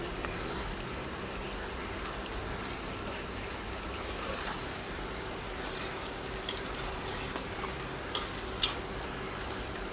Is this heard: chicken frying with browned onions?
yes